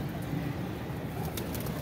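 Migratory pigeons at a keeper's loft coo softly in the background, faint low rolling calls over a quiet outdoor hum with distant traffic.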